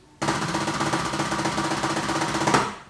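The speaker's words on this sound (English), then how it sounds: "you want to play an open roll or rudimental style roll" A dense, sustained snare roll with clearly separated strokes, loud and close, running steadily for a couple of seconds and ending on a sharp accent.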